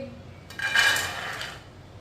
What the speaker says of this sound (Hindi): राजमा डाल लेंगे।